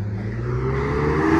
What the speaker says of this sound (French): Petit 4 cylindres qui chante.